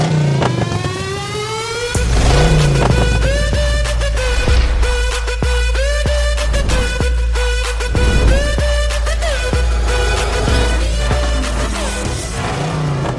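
A Lamborghini supercar engine runs loud and close, a deep rumble broken by repeated sharp revs and throttle blips in an uneven rhythm, with no voices.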